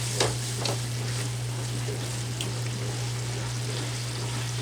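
Pan sizzling steadily while a beef skillet is deglazed with alcohol, a continuous close frying hiss with faint bubbling and a few soft clinks, no talking.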